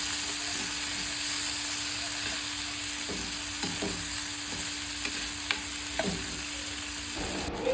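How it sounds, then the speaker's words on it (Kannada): Tomato, capsicum and green chilli frying in oil make a steady soft sizzle with a faint hum, broken by a few scraping stirs and light clicks of a spoon against the pan. "ಸ್ವಲ್ಪ ಟೊಮೆಟೊ ಹಾಕಿ, ಸ್ವಲ್ಪ ಕ್ಯಾಪ್ಸಿಕಮ್ ನಿಮ್ಮ ಟೇಸ್ಟಿಗೆ ಎಷ್ಟು ಬೇಕೋ ಅಷ್ಟು, ಮತ್ತು ಖಾರಕ್ಕೆ ಅನುಗುಣವಾಗಿ ಸ್ವಲ್ಪ ಗ್ರೀನ್ ಚಿಲ್ಲಿ ಹಾಕಿ ಚೆನ್ನಾಗಿ ಫ್ರೈ ಮಾಡಿ 5 ಮಿನಿಟ್ಸು"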